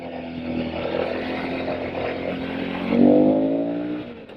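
A Suzuki V-Strom motorcycle engine hums steadily while riding near the Chesapeake Bay, a tonal drone that swells louder briefly before easing off toward the end.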